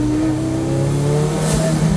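Kimera EVO37, a turbocharged and supercharged road car, revving hard from inside, its engine droning loud and steady with rising harmonic pitch and a brief hiss partway through.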